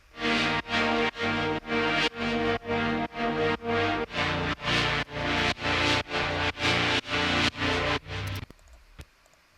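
Synth patch for melodic techno with its filter opened, brighter, fuller chords pulsing in a steady rhythm of about two per second, loud and alone, then dropping to a faint tail near the end.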